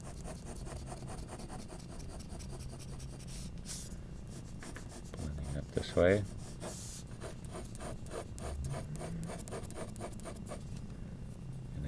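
A pencil shades and blends on textured paper while drawing a pear, making a quiet, continuous scratchy rasp of short repeated strokes, with a brief spoken word.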